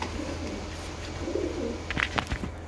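Pigeons at a Sialkoti pigeon breeder's loft coo in low rolling calls, several birds close by, with a brief burst of rustling and fluttering near the end; no one speaks.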